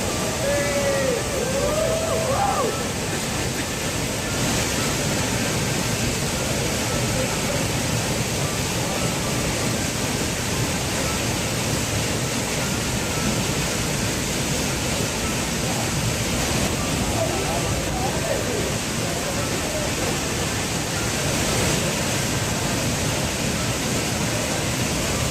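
Keralakund waterfall crashing and flowing with clear water, a constant dense roar heard close up that holds steady and loud from start to finish.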